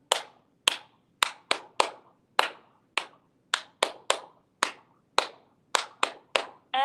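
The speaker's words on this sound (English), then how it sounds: "We're just going to do claps the whole time" A group of children clapping along to the Bingo song at a preschool storytime, sharp hand claps in an uneven rhythm of about fourteen bursts, close and loud with no talking.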